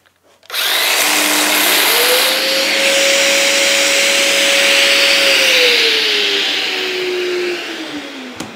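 A Festool CT dust extractor runs steadily and loudly alongside a cordless jigsaw, a broad rushing whine that holds for several seconds and then eases slightly near the end.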